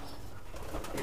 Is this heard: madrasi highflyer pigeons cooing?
yes